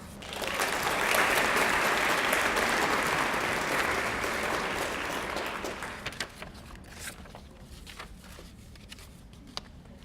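Steady applause from an audience at a high school academic achievers ceremony swells and holds for several seconds, then thins out into scattered claps and quiet room noise.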